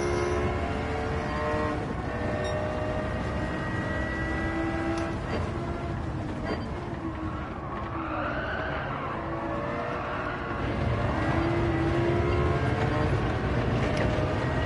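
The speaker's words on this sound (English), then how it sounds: "Someone fitted a racing exhaust to their car." Race car with a fitted racing exhaust in Gran Turismo 7, a Citroen GT at Lago Maggiore, droning steadily with rising and falling engine pitch and a brief change near the middle, continuous and fairly loud with no talk.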